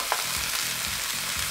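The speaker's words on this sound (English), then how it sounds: "I'm about to add in my green beans, my string beans, and this is called stir frying" Green beans stir-fry loudly in a hot oiled pan, a dense crackling hiss with faint scraping and tossing as they are stirred.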